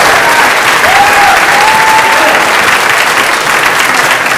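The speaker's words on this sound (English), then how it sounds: "let's give Patty a round of applause" A live audience in Brooklyn applauds Patty Mills, a loud, dense, steady wash of clapping from a large crowd that holds without a break.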